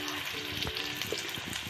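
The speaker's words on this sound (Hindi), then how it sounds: "इसके बाद हम इसमें शामिल करेंगे हरी प्याज। इसे हम पहले हल्का सा फ्राई कर लेंगे।" Green onions frying in hot oil in a home kitchen pan for sarson ka saag, a steady close sizzle with a few soft stirring clinks, no talking.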